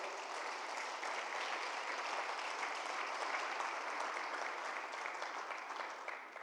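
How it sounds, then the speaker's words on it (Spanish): Church congregation giving sustained applause, a dense, steady wash of many hands clapping at once that holds for several seconds before easing slightly at the end. "Dale un fuerte aplauso al Señor, por favor."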